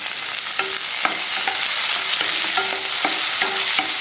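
Tomatoes sizzle in hot oil in a pan for a Murugan Idli Shop style coriander chutney, with a steady loud fry under rhythmic scraping stirs of a spoon, no voices.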